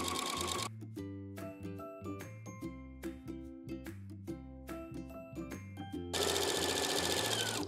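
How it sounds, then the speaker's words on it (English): A sewing machine fitted with a gathering foot stitches through a T-shirt in short repeated bursts, with steady mechanical hum and needle patter, then a louder continuous run at the end. "Now let's sew up the remaining three sides with the gathering foot."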